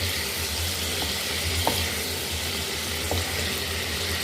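Chicken and chopped ginger being stirred in a karahi, with a steady close sizzle and occasional soft clinks of the spoon against the pan, no voices.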